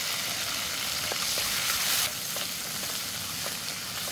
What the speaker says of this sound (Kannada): ಈಗ ಈರುಳ್ಳಿ ಮತ್ತು ಮೆಣಸಿನ್ಕಾಯಿ ಚೆನ್ನಾಗಿ ಫ್ರೈ ಆಗಿದೆ, ಸ್ವಲ್ಪ ಕೆಂಪಗಾಗಲಿ.